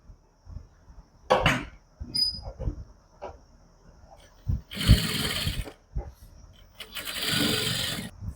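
A sewing machine stitching a salwar belt in short separate runs of rapid whirring, fairly quiet, with gaps and small handling noises and a voice talking between the bursts.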